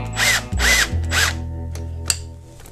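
A power tool drives bolts into the transmission and engine case of a BMW R1100RT motorcycle: three short, loud whirring bursts, then a steady lower mechanical hum with one sharp click near the end.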